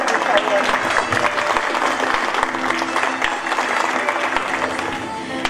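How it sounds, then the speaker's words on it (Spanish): An audience at an award ceremony honouring two teachers applauds steadily, a dense, loud wash of clapping hands that carries on without a break for the whole stretch. "Un aplauso, por favor."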